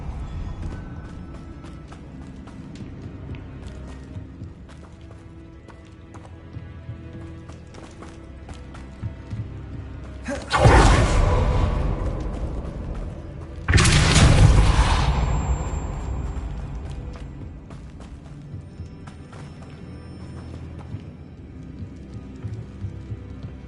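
Two Depulso spell casts in Hogwarts Legacy, each a loud, sudden whooshing burst a few seconds apart standing out over quiet background game sound, with brief talk.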